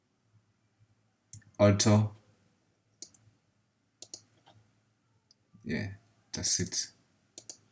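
Sharp mouse clicks come in short bursts while curves are drawn in Adobe Illustrator, mixed with brief stretches of a person talking.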